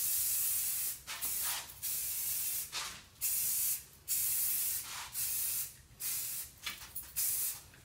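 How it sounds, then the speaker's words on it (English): Flat gray primer hisses from a spray can onto a football helmet in a series of about ten short, close bursts with brief pauses between them, and no voices. "Make sure you spray about 1 foot apart and don't linger on in one spot."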